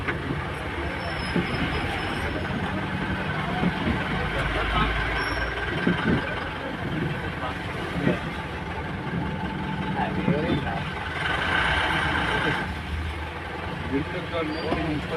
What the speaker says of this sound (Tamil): தமிழ்நாடு வண்டி தேனி கும்மளி போகுது